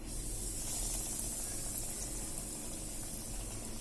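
Hot oil on a medium gas flame gives a continuous, even hiss and sizzle while crispy cutlets fry, steady throughout with no talking.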